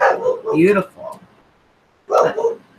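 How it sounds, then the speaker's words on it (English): A dog's short barks and yips sound in bursts at the start and again near the end, mixed with a person speaking briefly nearby. "You have to excuse my dog."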